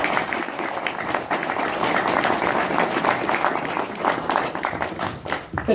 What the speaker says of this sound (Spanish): Tributemos a ellas, por favor, un sonoro voto de aplausos por esa valía